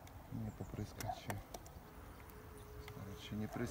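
Honeybees buzz steadily at an open hive during a formic acid varroa treatment, a dense close hum with flies zipping past and faint bumps and handling noises throughout.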